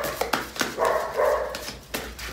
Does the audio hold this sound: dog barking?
yes